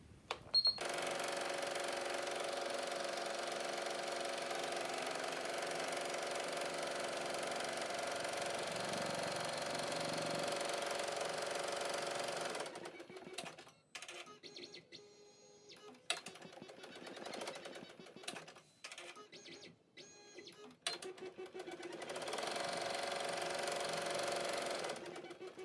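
Embroidery machine stitching a fabric tack-down line in the hoop for a hanging pocket, a steady fast mechanical whirring for about 13 seconds, then stopping and restarting in short bursts before a final sustained run.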